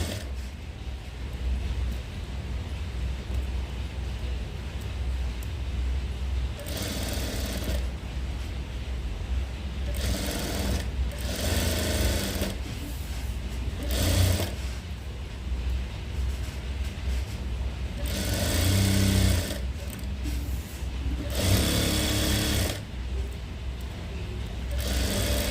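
A sewing machine stitching the lining of a maggam work blouse, running in several short bursts of fast whirring separated by pauses, close and moderately loud over a quiet room hum.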